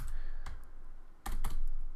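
Typing on a computer keyboard during software setup, with steady close key clicks and a couple of dense bursts of rapid keystrokes.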